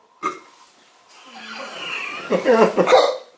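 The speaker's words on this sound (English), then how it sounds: "Oh, I got the hiccups like crazy, man." A person gets hiccups after eating Carolina Reaper jerky, with several short, sharp hiccup gulps mixed with strained breathing and groaning vocal sounds at close range.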